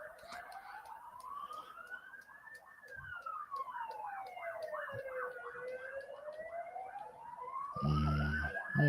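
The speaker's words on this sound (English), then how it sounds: "the siren is staying there for a bit" A wailing emergency siren rises and falls steadily, holding close for several seconds before a loud low rumble joins at the end.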